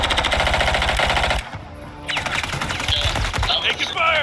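Rapid automatic gunfire in the Warzone 3.0 video game rattles loud and close in dense bursts. The firing breaks off for a moment, then resumes as more scattered shots and clatter, with game voices calling out over it.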